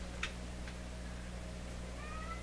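A house cat gives two or three faint, brief meows and chirps indoors, nearly buried under a constant electrical hum and hiss.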